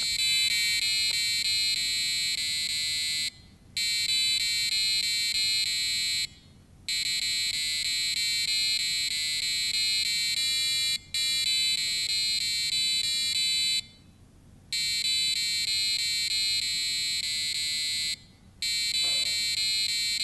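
A buzzer on a student-built electronic circuit plays a song as a loud, piercing electronic tone in long sustained notes broken by short gaps, heard alone for about twenty seconds.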